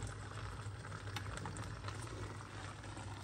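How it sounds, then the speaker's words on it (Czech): Cooked beans for cowboy beans are drained and their cooking water poured off, giving a dense, continuous bubbling, rushing liquid wash at steady moderate volume. "Si ty fazole takhle scedím, ale tu vodu z těch fazolí si ještě schovám."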